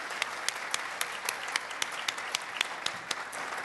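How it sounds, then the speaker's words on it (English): Audience applause at a conference marking the 50th anniversary of the Kerner Commission report, steady clapping from a large room with sharp individual claps standing out, moderately distant and continuous throughout. "we should give them a round of applause"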